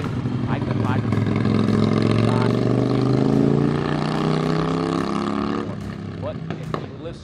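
A Harley-Davidson Sportster with Bubs exhaust pipes roars deep and loud, its pitch rising steadily as it accelerates and then easing off, while someone talks over the rumble.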